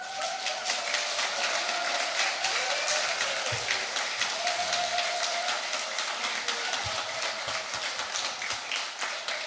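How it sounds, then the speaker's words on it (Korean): A church congregation claps steadily for almost ten seconds, a dense and fairly distant patter of many hands with a faint background hum. "우리 하나님께 영광이 되는 박수를 함께 올려드리겠습니다"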